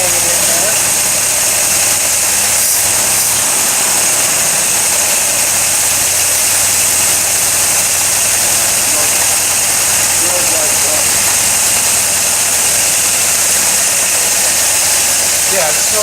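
An engine with sticky valves idles steadily and loudly for the whole stretch, a continuous rumbling drone with a faint ticking texture.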